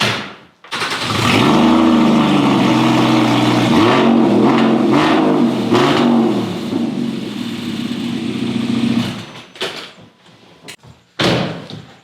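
A car engine in a home garage cold-starts after a door thud, then settles into a loud, steady idle with small rev rises for several seconds before cutting off, followed by a couple of clunks.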